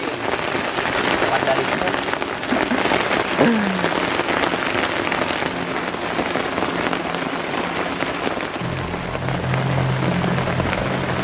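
Steady rain pours onto a shelter on a hilltop, a dense, loud hiss of drops on the roof and surfaces, with a voice speaking briefly over it.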